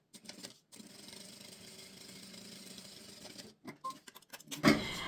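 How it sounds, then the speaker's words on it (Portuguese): A sewing machine stitches a pocket on a mini fabric shoulder bag: one steady, close mechanical whir for about three seconds, then stopping, followed by a few light clicks and handling knocks. "Vou passar uma costura de um pé de máquina e a gente vai virar e rebater."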